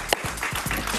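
A television studio audience claps for a guest on a talk show, a short burst of fairly loud, dense applause with a voice faintly mixed in.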